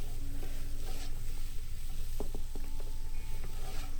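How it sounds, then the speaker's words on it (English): Celery being stirred in a pot of beef stew drippings, a quiet steady sizzle with faint scraping and clicking of the spoon, close and without talk. "Give it a little stir around."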